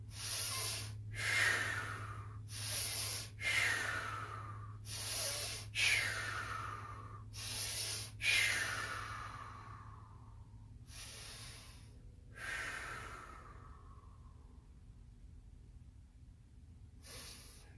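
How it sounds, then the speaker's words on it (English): Slow, deliberate breaths drawn in through the nose and blown out through the mouth during a Wii workout routine, repeated in a steady rhythm of soft hissing exhales, close and fairly quiet over a low background hum. "what I'm doing is in through the nose, blowing out through the mouth"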